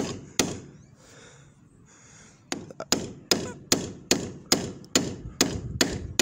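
Steady series of sharp hammer taps, about a dozen evenly spaced strikes, driving a knurled part into place near a car windscreen, preceded by a quiet stretch of faint rustling.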